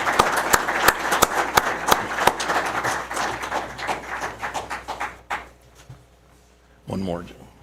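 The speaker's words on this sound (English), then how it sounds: "Big round of applause." A county commission meeting audience applauds in a steady patter of claps that fades out, followed by brief talk near the end.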